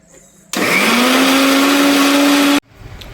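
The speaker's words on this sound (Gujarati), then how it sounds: "તો આમાં લસણ, લાલ મરચું, કાશ્મીરી મરચું અને થોડુંક પાણી, મીઠું નાખીને હવે મિક્સરમાં આપણે કાઢી લેવું, પીલી નાખીશું." A kitchen mixer grinder grinds garlic, red chilli, Kashmiri chilli, water and salt in one loud, close whirring burst of about two seconds that starts and stops abruptly, with no talk over it.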